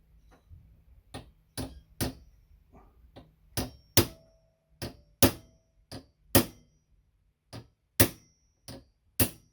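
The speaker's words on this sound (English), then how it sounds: "just a hammer and a punch" Sharp metallic taps of a hammer striking a punch while taking apart the exterior door handle of a Nissan 300ZX Z32, about a dozen irregularly spaced blows ringing briefly, close by in an otherwise quiet space.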